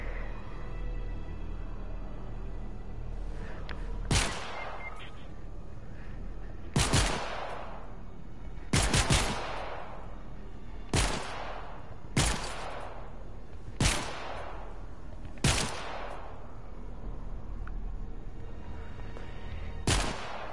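Single gunshots ring out in a video game, roughly seven sharp, evenly spaced cracks each followed by a fading tail, fired from a pistol over a low steady background with no talking.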